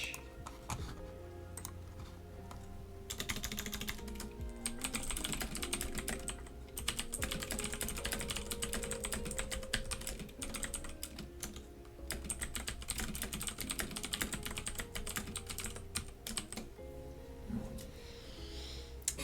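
Rapid clicky typing on a computer keyboard, close and continuous, with uneven bursts of keystrokes over a soft lo-fi music bed.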